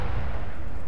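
A troop transport carrying a crab droid blows up in a video game: a short, loud, deep blast with a heavy low-end rumble that holds steady for under a second.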